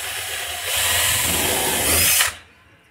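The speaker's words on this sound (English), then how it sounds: "I'm gonna drill some holes at angles here with my drill" Power drill boring angled holes into wood for a rotisserie wall mount, a loud whirring burst under two seconds long that ramps up, holds, then stops.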